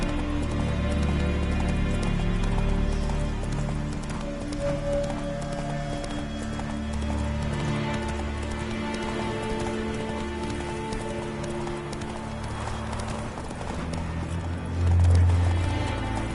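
Horse hooves clip-clop steadily at a gallop in The Witcher 3, a rapid even beat over a continuous game soundscape with faint ambient rain, and a brief whinny-like swell near the end.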